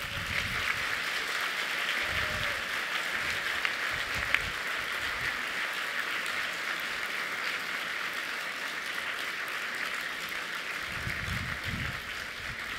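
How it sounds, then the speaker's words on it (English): A graduation ceremony audience breaks into steady, sustained applause, a dense wash of clapping that holds at an even level throughout, with no voices standing out. "I want you to give a big round of applause to all the people who've been behind you"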